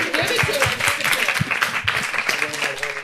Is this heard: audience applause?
yes